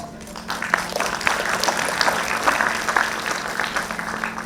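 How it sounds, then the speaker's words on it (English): Sustained applause from an audience at NEETIKUSHAL 2024, a national security event, greeting guests at its opening; a steady, moderately loud clatter of many hands with a faint constant hum underneath and no talking. "Please put your round of applause for our guest."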